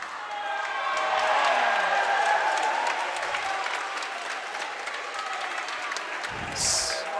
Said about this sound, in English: A race to the finish in lanes 5 and 6 with the crowd getting loud